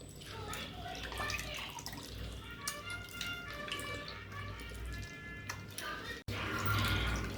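Soaked tamarind squeezed and swished by hand in a bowl of water, soft close sloshing and dripping sounds that carry on steadily, with a brief break near the end.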